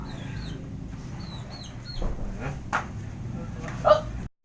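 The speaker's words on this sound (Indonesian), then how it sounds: "Oh ya ayam cari paraban." Chickens cluck softly while foraging outdoors in a village setting, with scattered short bird chirps and a few brief louder calls over a low background.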